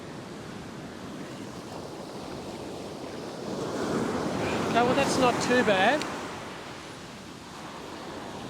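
Ocean surf breaking on a beach, a steady wash of waves that swells louder in the middle with wind noise on the microphone, while someone briefly talks over it.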